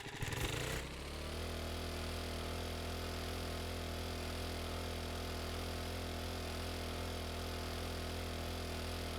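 Motorcycle engine in 7 Days to Die revving up, then settling into a steady, loud, droning run with a strong low hum that holds unchanged to the end.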